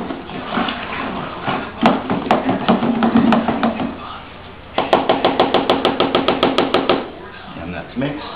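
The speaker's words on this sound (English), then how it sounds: "we want to mix it so we can get the bentonite stirred up" A paddle or spoon stirs wine-kit grape must to mix in bentonite, giving rapid rhythmic knocking against the fermenter bucket in two bursts, the second a steady fast series, loud and close, with someone talking in between.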